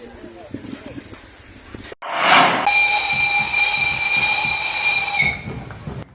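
The Mak Itam historic train at Sawahlunto, West Sumatra, lets out a loud burst of steam hiss, then a long, sustained steady whistle that cuts off sharply, with background murmur around it.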